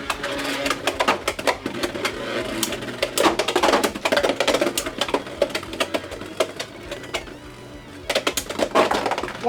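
Beyblade X spinning tops clash in a stadium, giving rapid, irregular clicking and rattling impacts in bursts throughout, close and fairly loud, with no talking.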